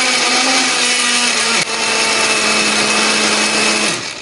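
A blender or chopper grinds chili spice paste with a little water or oil, a loud continuous motor whine that dips briefly midway and then winds down at the end.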